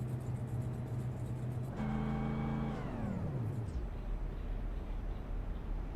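A stock car engine in a 1987 Firecracker 200 racing video game holds a steady low hum, blips up briefly, then its pitch slides down to a very low idle that rumbles on under a constant background din.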